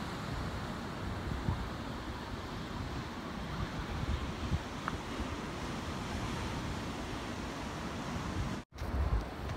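Ocean surf washes continuously along the coast at Inubosaki lighthouse in Japan, a steady broad roar mixed with wind buffeting the microphone, with a brief dropout near the end.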